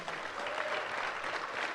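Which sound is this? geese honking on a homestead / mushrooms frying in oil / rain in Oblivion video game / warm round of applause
warm round of applause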